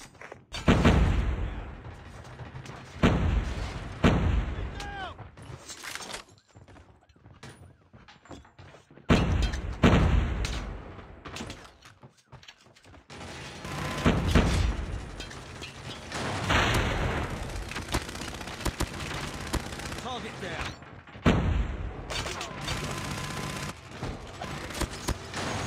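Sentry gun fire against zombies in Call of Duty Mobile's Attack of the Undead mode comes as repeated bursts of gunfire mixed with mechanical clanks and thuds, loud one moment and quieter the next.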